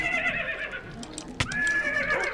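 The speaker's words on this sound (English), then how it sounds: "Sorry, skeleton horse." A skeleton horse in Minecraft lets out a loud, close whinny that trails off, with a sharp thud partway through and faint game sounds underneath.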